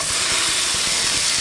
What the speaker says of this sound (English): And hear that sizzle as they hit that pan.